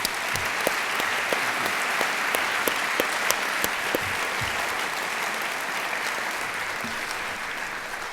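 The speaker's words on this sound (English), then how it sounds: "Could we give them a round of applause" An audience at a Veteran's Day ceremony applauds honored Army staff sergeants, a broad even roar of clapping that holds steady throughout with a few sharper individual claps standing out near the front.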